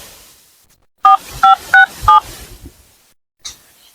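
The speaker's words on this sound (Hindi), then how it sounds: "लगाओ नंबर और देखी के डायल करता है।" Four crisp dual-tone keypad beeps sound in quick succession as a mobile phone number is dialed, loud and close, followed by a faint click and brief rustle in otherwise quiet surroundings.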